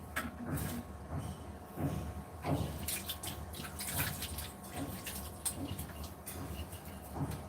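Water poured from a bottle or gallon container, a steady, moderately quiet stream with small splashes and drips, heard alone with no talk.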